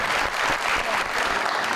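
Brief, dense applause from a studio audience on a television news program, a continuous loud wash of clapping with no voices over it.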